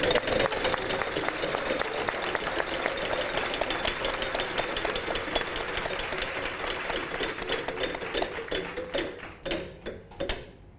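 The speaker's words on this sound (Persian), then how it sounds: "ما هم تشویقشون کنید" On a wheel-of-fortune style TV game show, a studio audience claps in a sustained, dense patter of many hands that thins and turns into scattered claps near the end.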